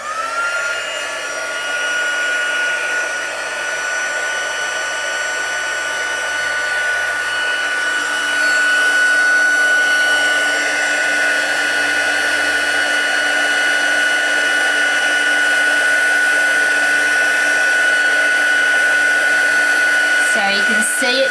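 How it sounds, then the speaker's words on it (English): A heat embossing tool blows hot air over embossing powder on a handmade card, a loud, steady whirring hiss that runs without a break and gets a touch louder partway through. "So now I'm just going to heat emboss that, so be a little noisy, just let it heat up a couple of seconds."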